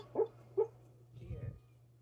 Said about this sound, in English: My dog is dreaming.